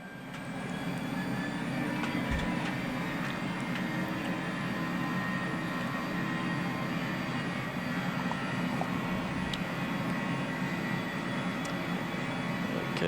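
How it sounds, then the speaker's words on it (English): Boeing airliner in a flight simulator beginning its takeoff roll, a loud, constant engine roar with a faint, regularly repeating high chirp over it and no talk. "Now the aircraft will start to move."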